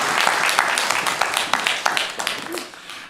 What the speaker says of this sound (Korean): 박수를 우리 하나님께 올려드리겠습니다